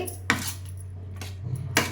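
A spoon stirs food in a bowl in a home kitchen, giving three sharp, close metallic clinks spaced apart over a low steady hum.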